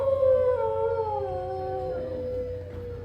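Animatronic dog on the Carousel of Progress ride howls a long, wavering, falling howl for about three seconds, close and fairly loud over a low steady hum from the attraction.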